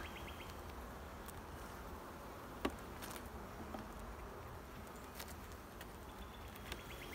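Honey bees around an open beehive during a hive inspection make a soft, continuous buzzing drone with scattered faint clicks and taps, heard quietly and with no speech.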